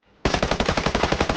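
A rifle in Ghost Recon Breakpoint firing explosive tracer rounds in a rapid automatic burst of roughly a dozen sharp, loud shots, starting abruptly after a brief quiet moment.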